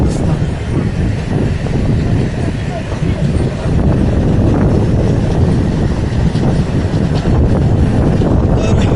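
The Diva–Roha train rumbles along loudly in a heavy, continuous low roar, with wind buffeting the microphone and no clear voices standing out.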